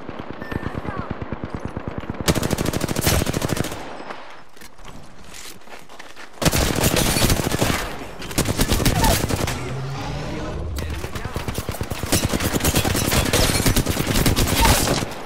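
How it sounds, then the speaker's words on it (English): Rapid gunfire in a video game battle royale fight, with sustained loud automatic bursts broken by short pauses and faint footsteps between volleys. "Opening fire on the enemy."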